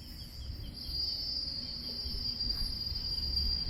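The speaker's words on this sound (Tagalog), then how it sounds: "Yung mga kuliglig. Mga insekto." Crickets chirp in a steady, unbroken high-pitched drone at the Shangri-La Rasa Sentosa resort in Singapore, with a soft background hum and no voices.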